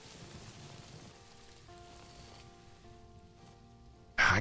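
Rainfall in the Planet Zoo video game, a soft, steady patter with a faint wash behind it that runs quietly throughout, then a sudden loud burst right at the end.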